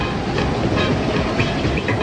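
An airport rail link train rolls steadily along its tracks with a loud, continuous rumble and a faint clickety-clack, close and unbroken throughout, with no talking.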